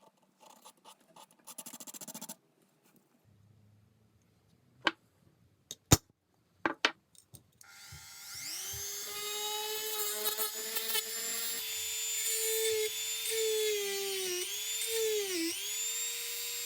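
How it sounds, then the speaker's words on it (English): Electric drill boring two holes through metal drawer springs for a vintage coffee grinder restoration, a steady high whine that rises and dips under load, preceded by scattered clicks and handling knocks. "We're going to drill these holes."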